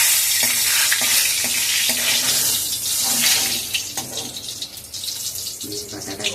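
Neem leaves fry in hot oil in a pan with a loud, bright crackling hiss that eases toward the end, mixed with stirring scrapes and a faint voice beneath.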